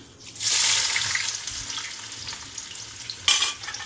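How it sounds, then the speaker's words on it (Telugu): Onions hit hot oil for an aratikaya (raw banana) fry, flaring into a bright sizzle that settles into a softer crackle, then a sharp burst of spatter near the end; no one speaks. "ఆయిల్ హీట్ అయిపోయిందండి. ఇప్పుడు ఆనియన్స్ వేసుకుందాము."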